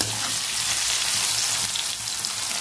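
Okra pieces finish frying in a pan, producing a dense, even sizzle with faint stirring underneath, close and steady throughout with no voices.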